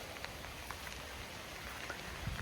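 Steady rain falls outdoors during a wet spell, a soft continuous hiss of drops striking the ground with faint scattered patters and no voices.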